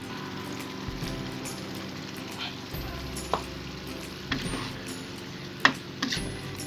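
Green chilies frying in a pan for Acehnese keumamah asam sunti give off a steady close sizzle, with a few sharp clacks and scrapes of stirring scattered through it.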